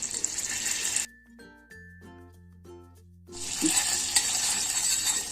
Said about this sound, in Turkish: Bir su bardağını e, bir yumurta sarısıyla birlikte çırpıyorum.